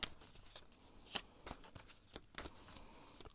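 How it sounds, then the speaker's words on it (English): Tarot cards being shuffled by hand during a card reading, giving a few soft, quiet riffling bursts and sharp flicks spread across a few seconds, close and alone with no voice. "I'm going to shuffle and see what the cards have to say"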